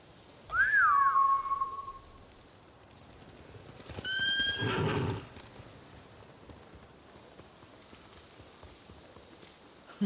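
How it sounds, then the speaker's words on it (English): A horse neighs in a rising then falling whinny, followed by a second burst of shrill whinnying over hoofbeats, all set against a steady outdoor ambience in the video game Ghost of Tsushima. "Bastards scared off the horses."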